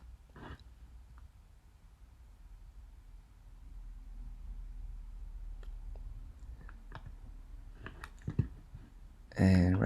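Sharp mouse clicks on a computer while editing image layers, a few isolated clicks spread across the stretch with a cluster near the end, close and fairly quiet over a low room hum.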